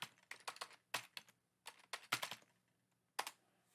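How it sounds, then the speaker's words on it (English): Fingers typing on a computer keyboard, several quick bursts of clicking keystrokes separated by short pauses, close and fairly quiet, with no voice. "I'm going to type in here"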